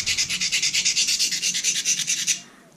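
A pocket knife edge rasps in quick, even back-and-forth strokes across a coarse/fine crystalline combination sharpening stone, about fifteen gritty passes close up before it stops.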